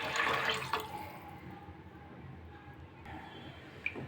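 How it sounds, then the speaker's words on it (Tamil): Water poured into a pot of tomato rasam on the stove, a soft splashing stream that fades after the first second into a faint trickle, with a small drip near the end. "4 கப்பு தண்ணி சேர்த்தேன்."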